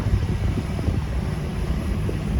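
A fertilizer dissolving unit runs at a plant preparing UAN 32 liquid fertilizer, giving a steady, loud, low industrial rumble with a windy hiss throughout and no pauses.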